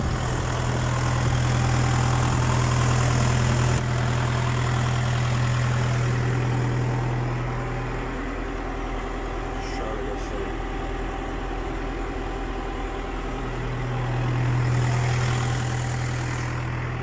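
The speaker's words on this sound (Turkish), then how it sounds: "Traktör 12 gazla çalışıyor arkadaşlar şu an." Tractor engine running at steady throttle to drive a 100 kVA PTO generator and a 120-ton-per-hour water pump, a continuous low hum and drone that swells, eases off midway, then rises again, with someone talking over it.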